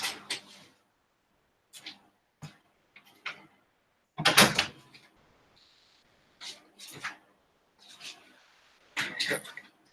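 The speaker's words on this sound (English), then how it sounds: "I'll shut the door as well." A door is shut indoors at home, giving a sharp thud among several brief knocks and bumps spread across the stretch. A person talks intermittently nearby.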